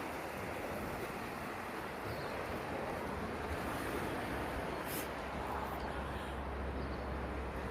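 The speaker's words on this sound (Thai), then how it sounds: "อันนี้ก็คือจะเป็นชายทะเลนะ" Seashore waves at 8 Mile Creek, South Australia, a steady broadband wash of surf with wind rumble on the microphone, continuous and moderately distant throughout with no talking.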